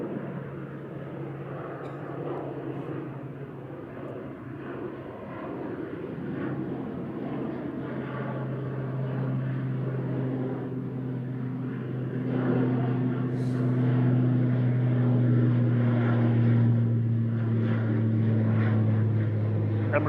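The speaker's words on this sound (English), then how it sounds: "Aer Lingus Regional departing back to Dublin there with flight 3329 EIHDI" Aer Lingus Regional ATR 72-600 turboprop departing Manchester Airport, a steady propeller drone with a sustained tonal hum that grows slightly louder, heard from a distance.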